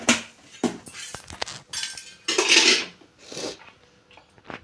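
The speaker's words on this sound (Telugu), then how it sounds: "ఆవాలు వేసుకున్నాం." Mustard seeds dropped into hot oil in a frying pan for an egg tomato curry, giving bursts of crackling and sizzling with clinks of utensils against the pan, close and fairly loud.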